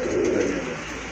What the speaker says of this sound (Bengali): এটা হচ্ছে আপনার জ্যাকোবিন কবুতর মাশাআল্লাহ